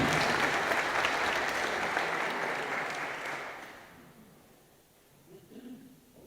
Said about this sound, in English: So would you give a round of applause to Shane Herity?